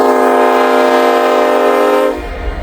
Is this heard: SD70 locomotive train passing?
yes